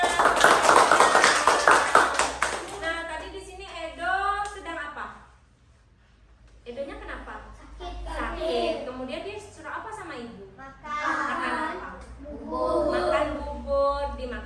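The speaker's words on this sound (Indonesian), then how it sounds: "tepuk tangan" A brief burst of classroom applause opens, then an adult and children talk.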